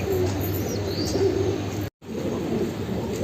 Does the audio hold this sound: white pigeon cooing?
yes